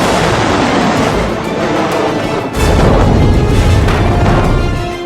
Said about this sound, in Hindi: पहली बार होवित्जर तोप ने जमीन से सीधे आसमान में सटीक वार किया है